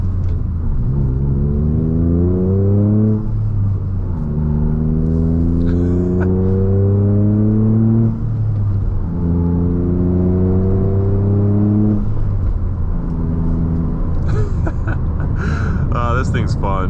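Toyota GR Corolla engine pulling hard through the gears on a race circuit, repeated rising revs with shift breaks between them, loud in-cabin drone with a driver talking over it.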